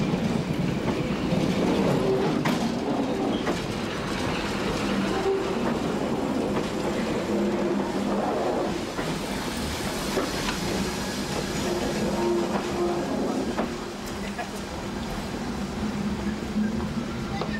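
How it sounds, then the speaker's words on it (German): A train set with an old railcar rolls slowly back toward Trossingen station on the Trossingen railway, a continuous low rumble with occasional wheel clacks and faint squeals, steady throughout. "In langsamer Fahrt rollt das Gespann zurück zum Bahnhof Trossingen."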